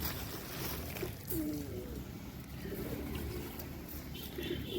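Domestic pigeons cooing softly in their coop before being released, a few low warbling coos rising over a faint background hum, with a little quiet human sound nearby.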